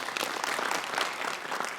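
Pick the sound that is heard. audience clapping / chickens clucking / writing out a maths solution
audience clapping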